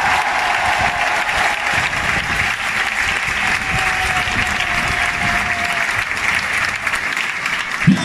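A football stadium crowd at a Catanzaro playoff match at Stadio Nicola Ceravolo applauds loudly and steadily, a dense wash of clapping and cheering from many fans that fills the whole stretch.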